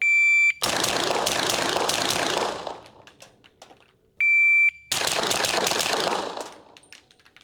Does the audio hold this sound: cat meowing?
no